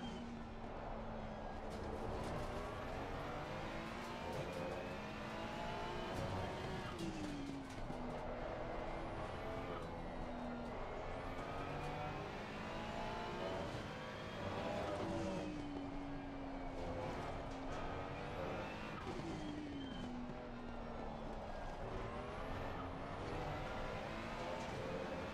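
A race car engine drones continuously in a racing simulator game played on a Cammus C5 wheel, its pitch rising and falling through gear changes over a steady, moderately quiet bed.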